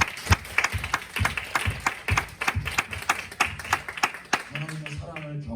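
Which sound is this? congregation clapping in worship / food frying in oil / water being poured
congregation clapping in worship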